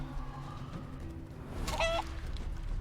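A chicken clucks once in the video game Divinity: Original Sin II, a brief bright squawk rising out of low game ambience and a steady hum.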